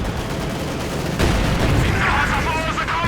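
Company of Heroes 2 battle audio in a 1v1 match with a Panzer 4 under fire: a dense, continuous rumble of gunfire and explosions that swells louder partway through, with no clear pauses.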